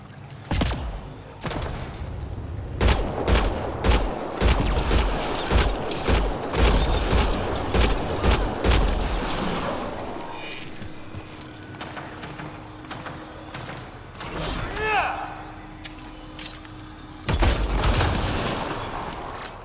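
Pistol fire in Mass Effect Andromeda, a rapid run of sharp shots for about ten seconds, then scattered single shots and mechanical game sounds, ending with a burst of louder fire.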